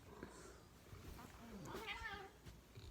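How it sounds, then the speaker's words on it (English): A house cat meows faintly in the background, a short rising call under a person speaking close by. "I apologize. That's the cat."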